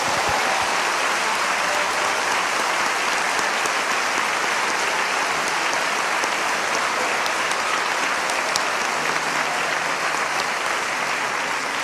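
A church congregation applauds, a loud, continuous wash of clapping that stays steady from start to finish with no talk over it.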